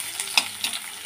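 Onion, garlic and black cumin frying in a pan, a continuous light sizzle broken by several quick stirring scrapes at irregular intervals, close and moderately loud with no talking.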